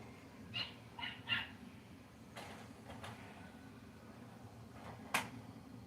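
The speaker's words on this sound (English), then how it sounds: "My dog Baxter's out there" A dog barks outdoors in a few short, sharp bursts at a distance, with a low steady rumble in the background between barks.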